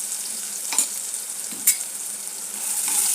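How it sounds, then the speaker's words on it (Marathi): A ground paste of onion, curry leaves, chili, ginger, garlic and coriander sautés in a pan for a festive veg thali, with a steady hiss of frying, a couple of sharp stirring clicks and no speech. "याला परतून घेते"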